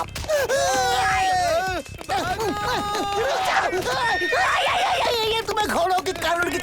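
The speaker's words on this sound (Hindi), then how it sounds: "घोड़े के कानून के लिए रुक जाओ सिकंदर" Cartoon horse in a 3D comedy cartoon whinnying and neighing in loud, wavering bursts, close and prominent, mixed with chuckling voices.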